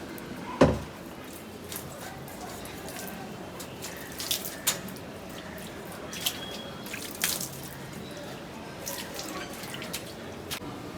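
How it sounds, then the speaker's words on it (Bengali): Water splashing and dripping as balcony plants are washed, with scattered small splashes and drips over a low steady background, close and moderate, no talk. "এখানে জল দিয়ে ওয়াশ করছে সব"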